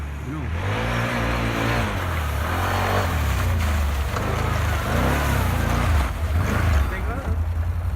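An ATV engine revs loud and close, with a steady low growl that swells and dips over several seconds while voices talk over it.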